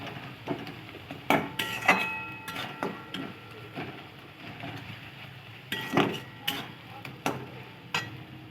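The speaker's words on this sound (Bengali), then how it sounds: "মশলাটাকে ভালো করে কষিয়ে নিচ্ছি" Prawn masala spice paste sautéing in a pan, with irregular scraping and clinks of a spatula against metal over a low background, close by and moderately loud.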